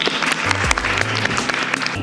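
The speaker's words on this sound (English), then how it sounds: "So can we just keep the applause going, please?" Audience applause at a literary festival welcomes authors and a moderator to the stage, a steady patter of clapping with a low voice and some hum running beneath it.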